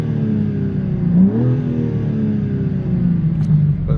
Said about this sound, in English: We'll go ahead and put this thing in Sport Plus and we'll give some revs for you guys.